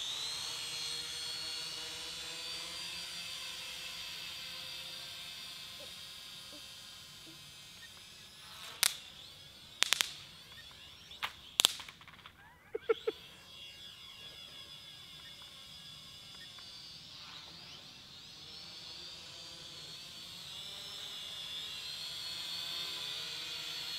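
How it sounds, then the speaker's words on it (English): A drone flying overhead drones with a continuous high mechanical whine that swells and fades as it passes, broken by a few sharp clicks and snaps partway through. "Dropping bombs from a drone."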